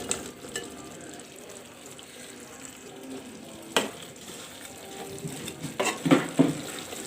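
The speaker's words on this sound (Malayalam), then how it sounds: "ഇനി നമുക്കിതിലേക്ക് ബീഫ് ഫ്രൈ ചേർത്ത് കൊടുക്കാം." Fried beef goes into thickened beef pickle gravy in a pan and is stirred, a soft sizzle running underneath with a few sharp scrapes and clatters of the spoon growing busier toward the end.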